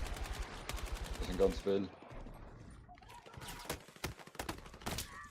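Rapid gunfire in the video game Battlefield 6, with sharp repeated shots and bursts at a moderate level, heard beneath players talking in German.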